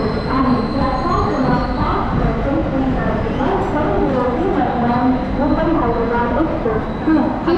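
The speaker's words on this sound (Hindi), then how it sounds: "5 नंबर प्लेटफॉर्म पर ट्रेन अराइव हुई है।" The Mumbai CSMT–Hyderabad Express pulls into Kalyan Junction, its wheels rumbling and clattering steadily on the rails. A busy platform crowd chatters loudly over the train.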